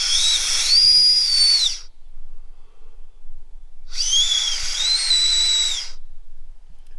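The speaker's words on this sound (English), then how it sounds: "that's how you make a whistle out of an acorn" Two shrill, breathy whistle blasts blown through an acorn cap, each lasting almost two seconds with a wavering pitch, separated by a short silent pause.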